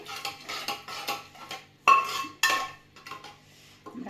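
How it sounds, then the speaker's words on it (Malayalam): Curry being stirred in a pot, heard as a ladle scraping and clinking against the metal in uneven bursts, with two sharper knocks partway through and no talking. "എന്നിട്ട് നന്നായിട്ട് ഇളക്കി വിടാം."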